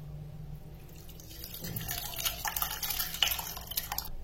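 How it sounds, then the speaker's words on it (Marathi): Curdled milk mixture poured through a thin cloth laid over a strainer set in a bowl, splashing softly at first, then trickling and dripping steadily, close and quiet. "चाळणीवर एक पातळ कपडा घालायचा, त्याच्यावर आता आपण हे मिश्रण ओतून घेऊ"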